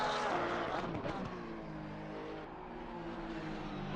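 A Ferrari race car laps the Nurburgring in a racing video game, its engine droning with a revving tone that rises and then holds steady, fairly loud and close.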